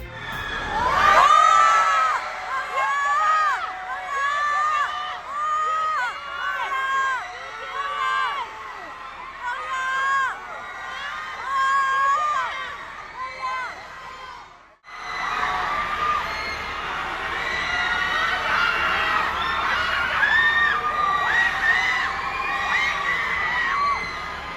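Hong Kong fans greet the K-pop group IVE on arrival with loud, sustained screaming and cheering, a dense shrill crowd roar that briefly cuts out and resumes.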